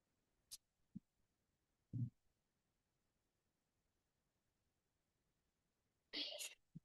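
One person sneezes sharply and close near the end, after faint scattered clicks and a brief muffled thump in an otherwise quiet room.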